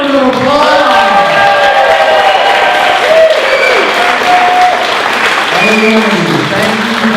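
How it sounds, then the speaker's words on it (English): Audience applause and crowd noise at an award ceremony for public servants and first responders, loud and sustained throughout with voices mixed in. "let's give them a huge round of applause."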